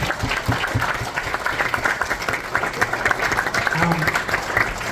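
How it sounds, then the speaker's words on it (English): A crowd gives a sustained round of applause, loud and continuous, with a few voices faintly mixed in. "Give them a round of applause"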